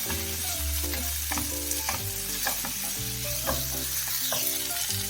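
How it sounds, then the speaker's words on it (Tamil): Chicken pasta base sautéing in ginger garlic paste in a pan: a steady, lively sizzle with repeated scraping and knocking stirring strokes against the pan, close and continuous, with a faint low hum under it and no voices. "இஞ்சி பூண்டு பேஸ்ட்ல ஒரு 2 நிமிஷம் இதை வந்து நல்லா வதக்கிக்கிட்டேன்"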